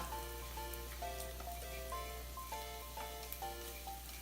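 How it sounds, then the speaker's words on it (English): Garlic frying in a pan gives a faint, steady sizzle, mostly covered by quiet background music. "And then just wait till the garlic get nice and brown."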